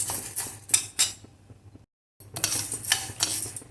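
Chana dal and urad dal stirred and roasted slowly in a pan, with repeated close spoon scrapes and clinks against the metal, broken by a brief silent gap before the stirring resumes.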